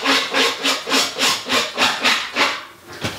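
A power screwdriver drives screws into the frame of an interior door being hung, with a steady run of about eight loud, rhythmic grinding pulses close by, then a brief pause and one last short burst.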